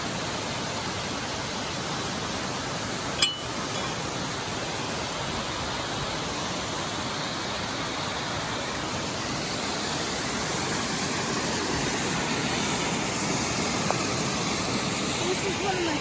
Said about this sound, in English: we'll top off our water bottles in this fresh spring water. It comes out of the ground from snow melt